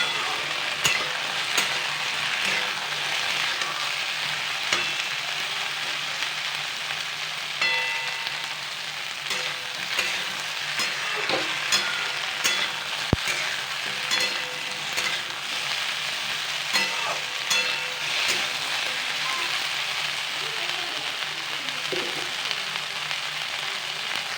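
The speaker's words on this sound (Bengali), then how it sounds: "তার জন্য তো প্রথমে ভালো করে সব কিছুকে ফ্রাই করবো আরও পাঁচ মিনিটের মতো গ্যাসের ফ্লেমটি হাই করে দেবো" Mixed vegetables frying on a high gas flame, a continuous close sizzle broken by repeated sharp clinks and scrapes of a spatula stirring in the pan, no voices.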